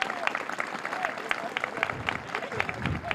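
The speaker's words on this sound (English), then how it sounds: "One more round of applause for these folks." Audience applause at the ribbon cutting for the J.J. Carroll 2Life Apartments, a dense patter of clapping running the whole time, mixed with crowd murmur and voices.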